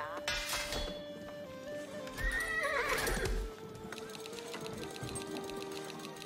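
Horses in Age of Empires 4 during the siege of Rochester: loud neighing and whinnying over clip-clopping hooves, with battle clatter and a mechanical rattling layered through the scene.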